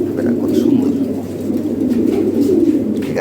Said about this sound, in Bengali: কবুতর দেখ বেটা কত সুন্দর